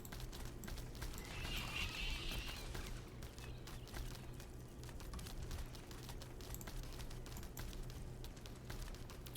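A horse mount called Clop in a farming video game, heard as clip-clopping hooves and a short whinny in the first seconds, then fainter hoof and ambient game sounds continuing steadily throughout.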